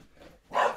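A single dog bark rings out near the end, fairly close and short, after a stretch of faint room noise.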